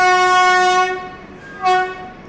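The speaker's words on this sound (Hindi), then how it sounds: "चलो एक बार फिर से ओवरटेक कर ही लेते हैं महाबोधि एक्सप्रेस को" The Bihar Sampark Kranti express train sounds a long, loud steady horn that fades, then a second brief horn blast follows as it runs and overtakes the Mahabodhi Express.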